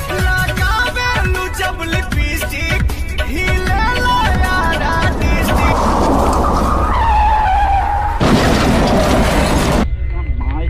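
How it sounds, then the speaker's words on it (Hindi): A cartoon car races and skids with squealing tyre screeches and whooshing engine sounds over lively background music, the effects loud and continuous throughout. "गुल्ली अपना सर हिलाता है और गाड़ी को और तेज भगाता है।"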